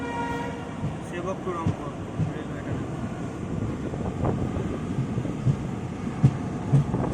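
A Kanchankanya Express train runs through Dooars country with a steady rumble of wheels and carriages, a few sharp clanks, and wind buffeting the microphone, while people talk nearby.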